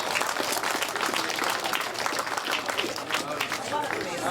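A crowd at a grasstrack racing awards ceremony gives a steady, sustained round of applause, with dense clapping filling the space and faint chatter mixed in.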